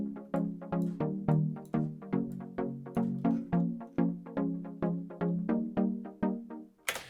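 Glitch-hop style beat with MPC swing groove, a steady run of punchy, plucked synth hits in a swung rhythm, each one decaying quickly, alone without voices.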